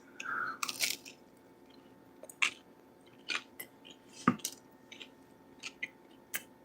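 Close, crisp crunching and biting on crunchy food during a tasting, with several sharp crunch bursts and wet chewing sounds spread irregularly over a few seconds, no talking.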